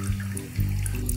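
Sugar water dripping and trickling from soaked bread pressed slowly between the palms, a steady close watery patter with small splashes and no talk.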